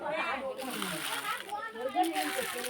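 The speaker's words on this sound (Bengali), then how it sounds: "ঠাংমা জল দিয়েছে, হাত ধুয়ে নিচ্ছে।" Water poured over a child's hands as they wash, a soft splashing and trickling with small sloshes, close by and mixed with voices talking throughout.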